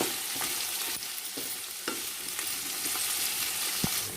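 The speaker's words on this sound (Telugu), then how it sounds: "ఇందులోనే బాగా ఫ్రై చేసుకుందాం కాకరకాయ అనేది." Bitter gourd pieces frying in several spoonfuls of oil in a pan, a continuous close sizzle broken by occasional light stirring taps.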